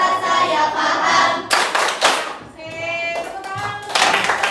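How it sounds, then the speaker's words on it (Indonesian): A classroom of schoolchildren claps in quick rhythmic bursts during an Indonesian lesson, loud and close, with young voices chanting along between the rounds. "Tepuk tangan."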